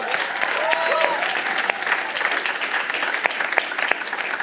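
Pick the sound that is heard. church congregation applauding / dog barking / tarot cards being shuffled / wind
church congregation applauding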